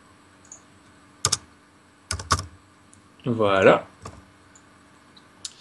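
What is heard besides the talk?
computer keyboard typing and mouse clicking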